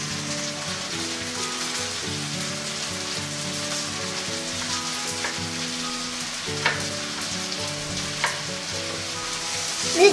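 Onions sauté in a very hot pan for brisket on the bone, making a loud, continuous crackling sizzle with a few sharper pops and stirring scrapes and no talking.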